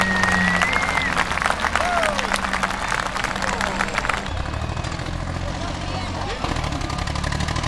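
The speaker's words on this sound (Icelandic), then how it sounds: "Klappiði vel fyrir byrna." Audience applause and crowd noise at an Icelandic tractor offroad competition, greeting driver Byrni; steady clapping fills the scene under engine rumble, with a brief vocal sound early on.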